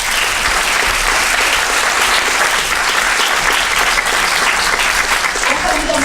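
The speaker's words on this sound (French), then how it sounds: "On peut vous applaudir." An audience at a jury speech ceremony breaks into sustained applause, a dense, even wash of clapping that holds steady for several seconds, close and loud, with no pause.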